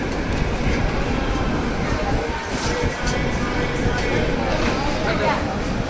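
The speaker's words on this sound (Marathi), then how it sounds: "वरच्या प्लॅटफॉर्म नंबर 6वरून आपली आता ट्रेन निघाली आहे" The Mahanagari Express passenger train pulls out of platform 6 at Bhusawal Junction, a steady close rumble of wheels and carriages with occasional clanks, while people talk over it.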